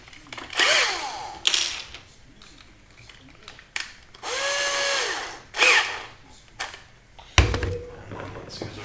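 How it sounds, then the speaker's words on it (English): A small bit on a power drill whines through acrylic in several short bursts, the motor spinning up and winding down between pauses, ending with a thud as the work is set down. "So, I'll have to get a smaller drill bit so I don't make the hole too large."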